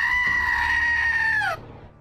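A screaming goat or rubber chicken sound effect, from end-of-season rewards in a Heroes of the Storm esports match: a single loud, harmonic, sustained squealing cry about a second and a half long that bends downward at the end, then stops.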